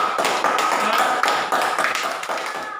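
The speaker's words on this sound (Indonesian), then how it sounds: "Tepuk tangan untuk kita semua." Loud, rhythmic hand clapping by students in a classroom lesson, coming in repeated short bursts with brief gaps, with voices mixed in.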